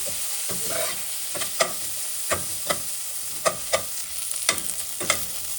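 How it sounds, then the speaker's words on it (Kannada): Dried curry leaves frying in a pan for a Mangalorean clam sukka, with a steady crackling sizzle broken by sharp scraping stirs that come every second or so, close and alone with no voices. "ಸೊ ಇದು ಚೆನ್ನಾಗಿ ಫ್ರೈ ಆಗಿದೆ."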